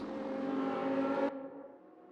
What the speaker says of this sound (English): And I can see a Bentley getting out on track, and Whitford is joining him as well.